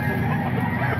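A stag rooster at a poultry sale clucks and crows in dense, steady bursts, close and loud throughout with no pauses.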